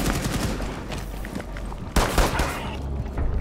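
Rapid gunfire from the video game Rainbow Six Siege in Containment mode: dense, loud, overlapping bursts like automatic weapons, continuing without a break for a few seconds, with a sharp louder volley near the end.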